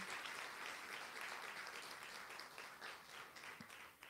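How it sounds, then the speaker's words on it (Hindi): Audience applause at a spiritual meditation class at Pandav Bhawan, a steady wash of many hands clapping throughout, moderately distant and even, with no talk over it. "भाई ताली तो बजाओ जा रहा।"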